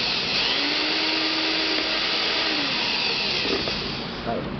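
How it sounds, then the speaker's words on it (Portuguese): An electric drill bores a hole during a makeshift fan repair, its motor giving a loud, steady whine that runs almost unbroken and eases slightly near the end. "Vamos terminar de furar aqui agora."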